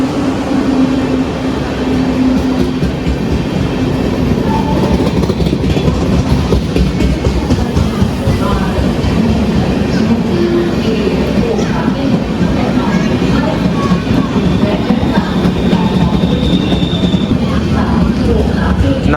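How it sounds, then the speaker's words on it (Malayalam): The Okha–Ernakulam express rumbles past near Bekal Fort, a loud continuous roar with rhythmic clickety-clack from the wheels lasting throughout, with faint voices underneath. "48 മിനിറ്റ് ഡിലേ അടിച്ചിട്ട് ഓക്ക എറണാകുളം വരുന്നുണ്ട്."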